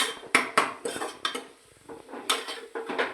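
Cooked chana dal masala being mashed in a pan with a metal utensil: close clanks and scrapes in quick bursts, a short quieter gap near the middle, then more knocking against the pan, no voices.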